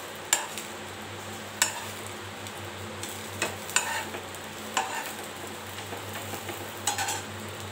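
Puri frying in hot oil gives a continuous crackling sizzle, punctuated by several sharp metallic clinks and taps of a utensil against the pan.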